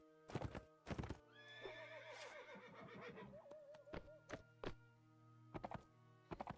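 Horse in the Mount and Blade Warband video game, europe 1200 mod: hollow clip-clop hoofbeats at the start and end with a long neigh in the middle, all fairly faint.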